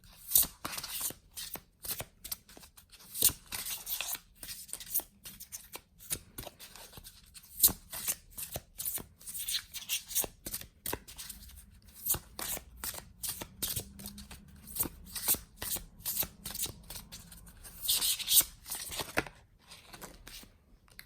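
Tarot cards are shuffled by hand in a quiet room, with a long series of crisp, close riffles and slaps in an uneven rhythm and no talk.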